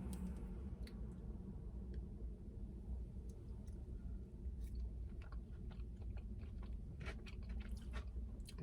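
Close, quiet chewing of spicy Dave's Hot Chicken, with soft crunches and wet bites repeating steadily over a low background hum, and no talking.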